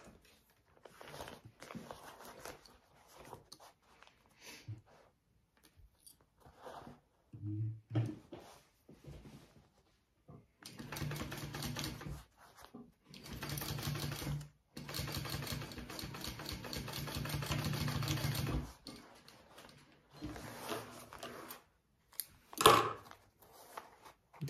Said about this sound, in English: so we're just gonna sew those up